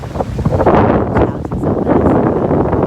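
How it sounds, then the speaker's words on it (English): Strong wind roars and buffets the microphone in a steady, loud rush with no other clear sounds. "it's getting a bit windy"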